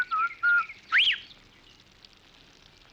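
A man whistles a short tune nearby: two level notes followed by a rising, swooping note, then quiet room tone for the remaining seconds.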